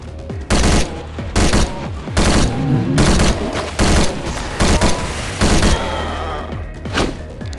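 Bursts of gunfire in the mobile zombie shooter Zombie State, rapid automatic volleys in loud close clusters separated by brief pauses, with heavy thumping impacts.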